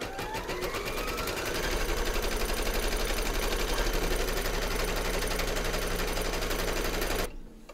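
An embroidery machine stitches a round on a hooped piece with batting, a loud, rapid, steady mechanical rattle running continuously before stopping abruptly at the end.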